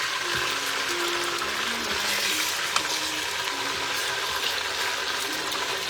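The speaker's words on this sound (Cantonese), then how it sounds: "又俾佢煎一煎佢嘅油出啲，咁樣就好食啲咁樣" Food pan-frying to render out its oil gives a steady, even sizzle throughout, moderately loud and close, with faint clicks and no one speaking.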